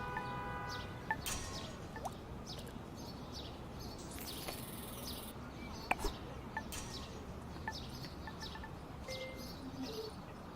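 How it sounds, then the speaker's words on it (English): Morning city ambience in the video game Golf Club: Wasteland, with scattered bird chirps and tweets over a faint steady background hum; no clear passing cars stand out. "the sound of the bustling city in the morning, a call and response of cars and birds"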